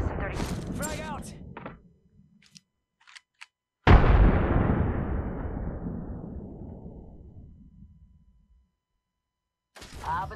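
A frag grenade explosion in the video game Apex Legends lands as one loud, sudden boom whose rumble slowly fades over several seconds, after a voice and a few faint clicks; speech returns briefly at the end.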